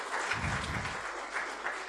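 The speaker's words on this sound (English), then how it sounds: "I want to say a very good claps for yourself" Applause from the audience at an international physical education and sports conference, a faint, steady patter of clapping.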